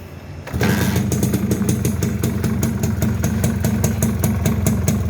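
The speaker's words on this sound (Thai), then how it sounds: "เดี๋ยวเรามาฟังเสียงเครื่องเนาะคันนี้สตาร์ทง่ายครับ สตาร์ททีเดียวติดเลยนะฮะ" A 1990 Honda Nova RS motorcycle with a five-speed hand clutch starts on the first try after a short quiet moment, then settles into a steady, even, rapidly pulsing idle, loud and close.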